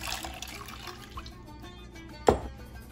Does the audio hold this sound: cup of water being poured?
yes